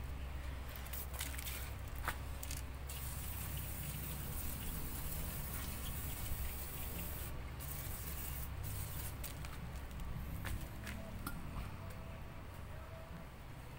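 Brake cleaner sprays onto the rear brakes of a 1999 Mitsubishi Lancer in a steady, close hiss that runs the whole time with small pauses and splatters.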